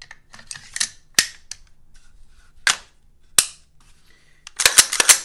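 Sharp metallic clicks and clacks come from a rifle charging handle and bolt carrier group being put back together after cleaning, a few isolated snaps and then a quick cluster at the end, close up.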